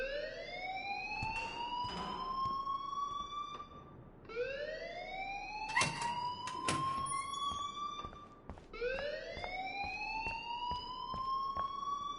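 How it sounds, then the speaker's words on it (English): In the video game Life is Strange, an alarm wails in three rising sweeps, each climbing steadily then cutting off before starting again, loud and continuous like a siren. "please turn off that alarm since that's your job"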